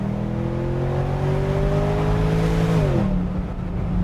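Naturally aspirated V8 engine in a German car revving steadily and loudly, pitch climbing gradually before dropping sharply near the end, with the exhaust note continuing alone at a lower idle-like drone.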